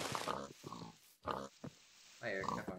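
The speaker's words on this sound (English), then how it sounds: "Oh, is that an Afro pig?" A video game pig lets out grunting oinks in short bursts, mixed in with excited talk from players.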